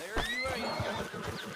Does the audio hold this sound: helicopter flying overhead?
no